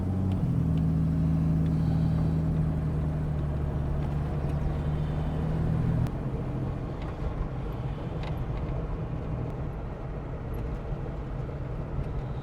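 A steady engine drone with low rumble as a 1967 Jaguar E-Type Series 1 4.2 drives along, the tone dropping slightly partway through, no talking.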